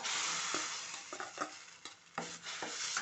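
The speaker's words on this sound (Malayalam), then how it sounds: "നന്നായിട്ട് ഇളക്കി കൊടുക്കുക" Ground paste being stirred into an okra buttermilk curry in a pan, a soft continuous sizzle with scraping spoon strokes against the pan at irregular intervals, close and alone.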